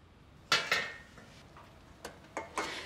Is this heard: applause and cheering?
no